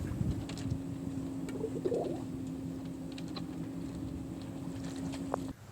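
A sailboat's electric drive motor running at low RPM gives a steady low hum with a faint whine, under wind noise on the open water.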